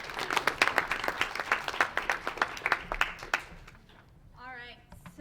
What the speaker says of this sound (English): Let's give our cheerleaders a round of applause.